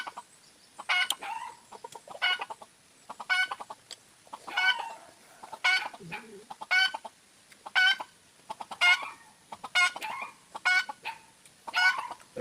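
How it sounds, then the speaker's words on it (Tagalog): A chicken clucks outdoors in repeated short bursts, roughly one call per second, close and clear against a quiet background. "Hindi kalaban si Putol, kaya pumuputak"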